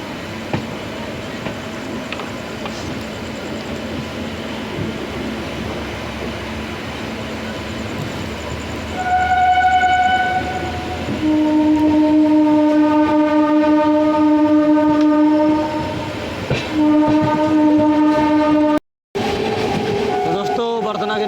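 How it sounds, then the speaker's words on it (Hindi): The Balurghat–Bathinda Farakka Express crosses past a moving train, its loud, sustained horn blaring in several long blasts over the steady roar and rumble of rolling coaches, close and powerful. "जस्ट निकलने के बाद क्रॉसिंग हो रही है बालूरघाट बठिंडा फरक्का एक्सप्रेस"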